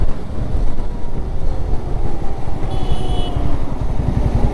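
A motorcycle cruises slowly along a hill road, its engine droning loud and close under heavy buffeting wind against the microphone, with no voices.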